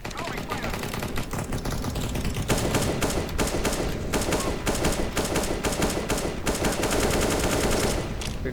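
Rapid automatic gunfire sprays in the video game CS:GO, loud dense bursts of shots rattling almost continuously, with a voice talking faintly underneath.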